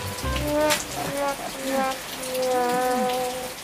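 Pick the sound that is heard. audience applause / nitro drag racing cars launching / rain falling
rain falling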